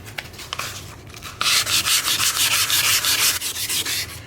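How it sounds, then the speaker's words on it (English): Hand sanding of a strain gauge sample with 400 grit sandpaper, a steady run of loud rhythmic scrubbing strokes after a few lighter scrapes, close up with no voices. "So this is 400 grit sandpaper."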